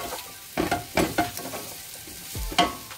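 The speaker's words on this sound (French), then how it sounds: "on fait revenir à feu doux pendant 5 minutes à peu près, jusqu'à ce que les pommes de terre soient cuites" Potatoes frying gently over low heat in a pan for chermoula, with soft sizzling broken by a few stirring scrapes and clinks, close and moderately loud, no voices.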